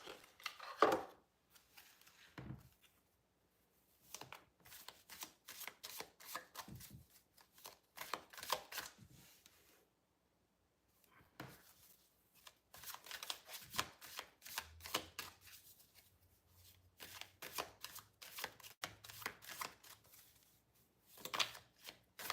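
A deck of cards being shuffled in repeated bursts of riffling and flicking, close and fairly quiet, with short pauses between runs and little else around.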